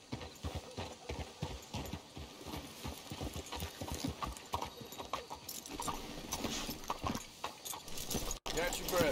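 Horse hooves clip-clop steadily in a quick rhythm in Red Dead Redemption 2, close and fairly loud, with some jangling and a brief rumble near the end.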